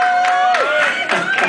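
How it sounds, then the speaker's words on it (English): A bar crowd at a live rock band show claps and cheers loudly in a dense roar, with sustained guitar tones ringing through. "Give him a big round of applause."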